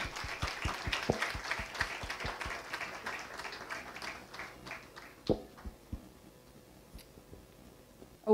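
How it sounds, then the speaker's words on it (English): Audience members at a design school panel clap for the panelists, a moderate burst of individual claps that thins out and fades to a few scattered claps. "Guys, keep the applause going."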